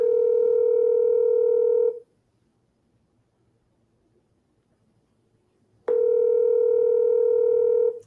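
A telephone rings unanswered at Taco Bell, with the ringback tone sounding for about two seconds, then four seconds of silence, then sounding again. The tone is clear and steady, with no voices.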